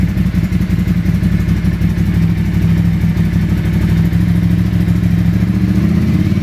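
Motorbike engine idling at about 1500 RPM, a steady low rumbling chug with even fast pulses, close and loud throughout with no talking.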